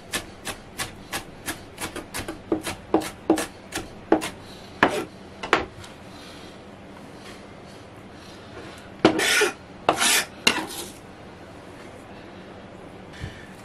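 Fresh herbs being chopped with a knife on a board: a steady run of crisp, close taps that loosens into uneven strokes, then a few louder scraping rasps near the end.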